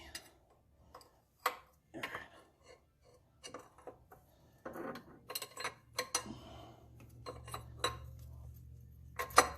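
A wrench clinks and taps against a power steering line fitting on a 1998 Chevrolet S10 Blazer, sounding as irregular close metallic ticks with a low hum rising underneath partway through.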